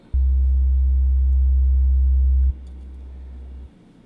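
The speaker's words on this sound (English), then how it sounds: "if you have a single oscillator, like this sine wave here, sounds like so." A pure, steady low sine tone, loud and unbroken for a few seconds, then abruptly dropping to a quieter level before cutting off.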